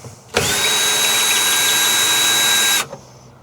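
A power drill runs alone in one steady burst of about two and a half seconds while unscrewing a part in a teardrop camper, loud and close, starting and stopping abruptly.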